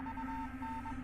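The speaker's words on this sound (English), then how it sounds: "The beeping becomes gradually louder, almost as if trying to tell me something." Short electronic beeps in an uneven Morse-like pattern sound over a steady low hum in the video game Death Mark, clear and continuous with no speech.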